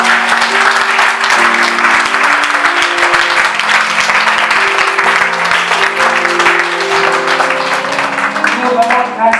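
A church congregation applauds loudly and steadily for several seconds, a dense continuous clatter of many hands with a sustained musical tone underneath.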